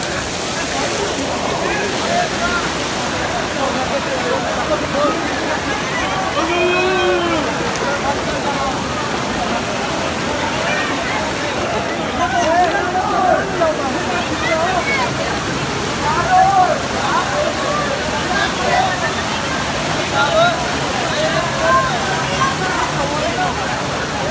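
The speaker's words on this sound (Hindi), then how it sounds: "ये अम्ब्रेला वाटरफॉल जो है ये ऊपर से भी पानी नीचे आ रहा है" Water from an umbrella-shaped waterfall pours down from above in a loud, constant roaring splash nearby, while people's voices chatter over it throughout.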